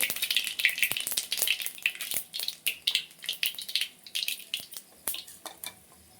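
Mustard seeds, cumin seeds and chana dal sizzle in hot oil for upma, a close, crackling fry with sharp irregular pops and spatters over a constant hiss, with no talking.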